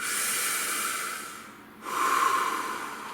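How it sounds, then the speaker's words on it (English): A single deep breath close to the mic: a long, airy inhale, a brief pause, then a strong hissing exhale. "Nice deep breath."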